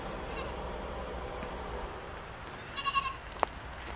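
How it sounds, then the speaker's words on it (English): Goats penned inside electro-net fencing on a farm, giving a few faint, distant bleats near the end over a quiet outdoor background. "And here's the goats, as you can already hear from way up the line"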